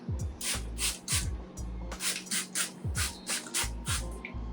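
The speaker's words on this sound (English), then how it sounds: "I just spray water on my camera" Repeated short bursts of a spray bottle misting, several quick squirts in uneven clusters with brief pauses between them, close and crisp.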